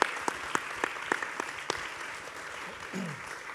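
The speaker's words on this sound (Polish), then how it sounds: "Gorące brawa do naszej grupy worshipowej." Applause from an audience at a talk event welcoming a worship band, sparse distinct claps standing out over a steady wash of background noise, fairly faint and brief.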